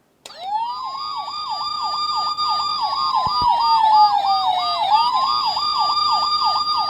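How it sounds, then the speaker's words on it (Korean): An electronic toy siren from a police robot toy (Mini Force Justice Titan) wails in a fast, repeating up-and-down pattern with a steady tone, loud and continuous with no talking. "말 그대로 사이렌이 울리는 음성"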